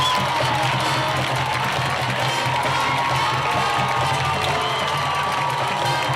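A high school football stadium crowd cheers loudly as the Trojans run onto the field through a tunnel line at night, a dense, sustained roar of shouting and clapping throughout.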